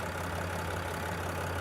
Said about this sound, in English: And you can hear that purr of that diesel engine.